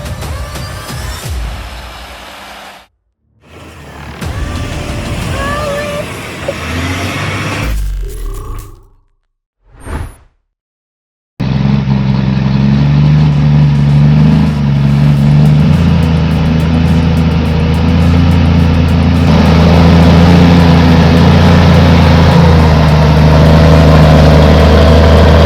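Heavy logging truck engines roar loud and close, a steady deep droning rumble filling the second half, preceded by choppy shorter stretches of mixed noise with gaps of silence.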